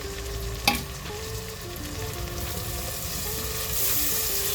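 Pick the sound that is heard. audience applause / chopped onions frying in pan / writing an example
chopped onions frying in pan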